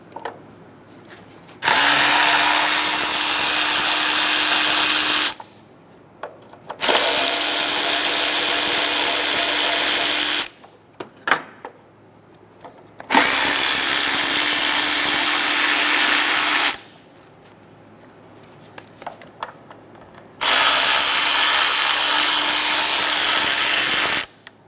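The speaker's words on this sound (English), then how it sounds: "Using a 10mm socket, we're going to remove all of the bolts for the top 2 covers." Power tool spinning a 10mm socket to remove cover bolts on a 2003-2007 Honda Accord, four loud steady whirring runs of a few seconds each, separated by quiet pauses with small clinks and handling noises.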